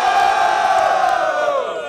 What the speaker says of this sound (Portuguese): Barulho para as rimas do MT.